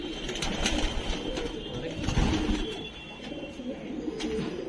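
Pigeons coo steadily in a loft with a low, rolling murmur from several birds at close to medium distance, among them a lalpota, a sendha and a kasni pigeon, with faint wing rustling in the background.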